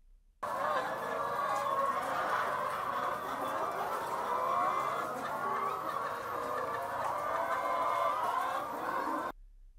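Laying hens on an egg farm cluck and squawk continuously as a dense flock, a steady loud chorus of many birds close by with no talk.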